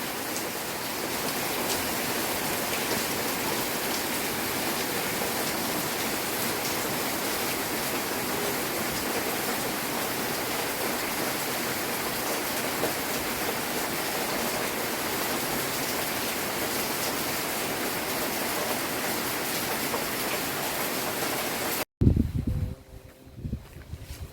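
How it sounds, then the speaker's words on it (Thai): Heavy rain pours steadily at night, a dense, loud, unbroken hiss lasting over twenty seconds before cutting off abruptly to quieter rustling at the end. "มืดตึ๊บแล้วก็ฝนตกหนักด้วย"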